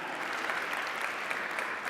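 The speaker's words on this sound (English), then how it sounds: "Yes, you can clap for that." A room full of people at a leadership talk claps steadily in a dense, even patter, heard faint and somewhat distant.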